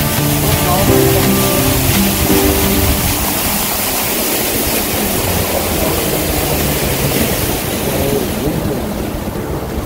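The roar of a powerful waterfall, Cascada La 70 in Colombia's Valle de Tenza, fills the air as a loud, continuous rushing wash close by, with voices talking over it.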